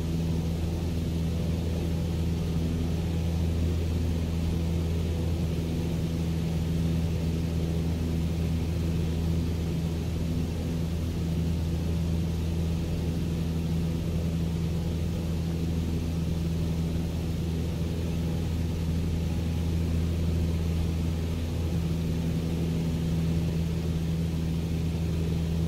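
Steady engine drone of an airplane climbing after takeoff in Microsoft Flight Simulator 2020, heard from the cockpit on a San Antonio career job: a constant low hum and rumble, unbroken and even for the whole stretch.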